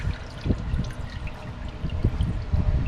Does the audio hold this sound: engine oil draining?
yes